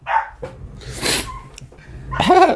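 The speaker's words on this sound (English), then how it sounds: "Oh, God, I've set the dog off." A few short, sharp dog barks close by, the last one a louder, higher yelping bark, separated by brief pauses.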